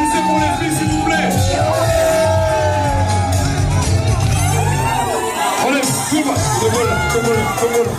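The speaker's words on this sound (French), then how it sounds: "Applaudissez pour les filles, s'il vous plaît." A loud audience cheers and whoops for the girls, a thick babble of voices with rising shouts carrying on without a break.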